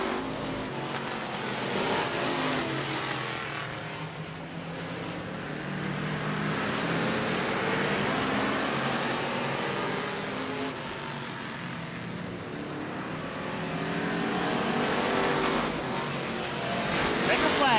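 Sprint cars racing on a dirt track in Auburndale, a loud continuous engine roar that swells and fades as the pack circles, with an announcer's voice talking over it.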